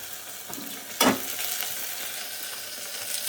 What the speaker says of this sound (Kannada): ಕಾಳನ್ನು ಜಸ್ಟ್ ಸೆಕೆಂಡು ಈ ಥರ ಫ್ರೈ ಮಾಡಿಬಿಟ್ಟು